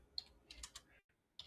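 Quiet keystrokes on a computer keyboard tap out a few quick clicks in short bursts, close and faint, with a brief silent gap before one last click.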